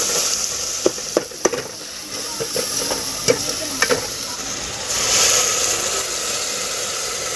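A tadka of spices fries and sizzles in hot oil for pumpkin kofta curry, with a steady close sizzle, a few sharp spoon clinks against the pan early on, and a brief louder crackle near the end.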